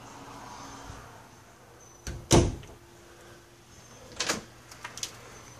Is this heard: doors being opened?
yes